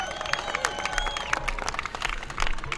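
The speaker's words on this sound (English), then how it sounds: "Round of applause." Crowd applause at the opening of the newly reconstructed $50 million McCarren Pool and Play Center, steady scattered clapping with a few sharper claps and some background voices throughout.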